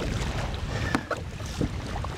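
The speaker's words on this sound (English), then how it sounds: "now see if you can paddle straight doing that" A kayak paddle taking forward strokes through the water, with soft splashes and drips under steady wind noise and no talking.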